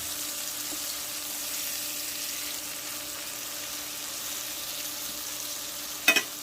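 A T-bone steak sizzles and fries steadily in a pan, a constant close hiss with no talk, broken near the end by a couple of sharp clatters as it is handled.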